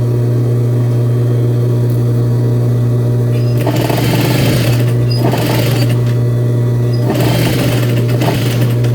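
A sewing machine stitching a tapered dart at the waist of a garment, with loud bursts of fast needle clatter separated by pauses over a steady close motor hum.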